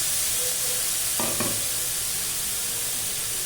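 Green chillies and curry leaves hit hot oil in a pan, producing a steady close sizzle and hiss with a brief stirring clatter midway.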